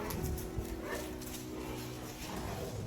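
A small dog barks repeatedly amid busy indoor noise, with scrabbling and thumps alongside.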